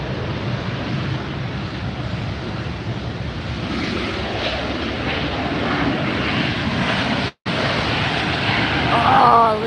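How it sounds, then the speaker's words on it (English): Airbus A380 superjumbo jet engines at Los Angeles Airport roar steadily and loudly, with a windy rumble building slightly toward the end; a brief dropout interrupts it. "I love the sound of the jet engines,"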